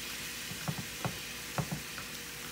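Shrimp sizzle in a pan on medium-high heat with lemon and garlic, a soft steady hiss broken by a few short clicks and scrapes as they are turned over.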